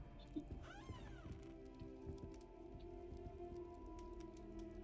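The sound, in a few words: cat meowing in Hogwarts Legacy video game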